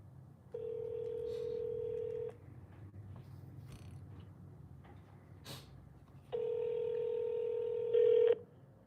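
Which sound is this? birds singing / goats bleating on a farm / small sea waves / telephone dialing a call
telephone dialing a call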